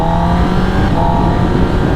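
A 2023 Kawasaki ZX10R sport motorcycle accelerates on a highway, a loud, steady engine drone with rising harmonic tones under constant wind rush, with no pauses across the stretch.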